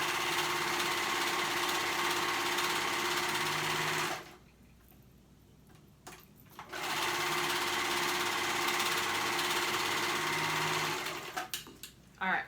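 Sewing machine stitching a dress, running in steady loud bursts that stop briefly midway and resume, then cut off near the end.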